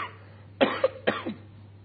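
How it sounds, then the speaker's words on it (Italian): A man coughs during an Italian press conference, giving two close, sharp coughs about half a second apart in a quiet room. "Scusate, ho la tosse"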